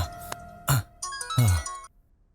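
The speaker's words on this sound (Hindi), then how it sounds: "किसका फोन आ गया?" A ringing phone goes off in a Hindi-dubbed South Indian action movie scene, short bright electronic tones in a few bursts, fairly loud, then stopping into quiet.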